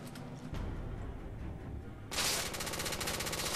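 Rapid automatic gunfire from The Order: 1886 fills the passage as a dense, loud rattle that grows harsher and heavier partway through, with no talking.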